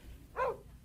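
One short dog bark rings out at moderate distance over a low, constant background rumble.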